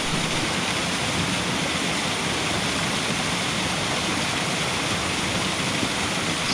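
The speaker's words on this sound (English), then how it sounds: "The main waterfall is probably about 7 foot tall, coming over a cliff face, and the water is streaming down and bouncing off the rocks at the bottom." A roughly seven-foot waterfall pours over a cliff face onto rocks covered in ferns and moss at Fairy Glen, Appley Bridge, a close, loud, unbroken roar that holds steady throughout.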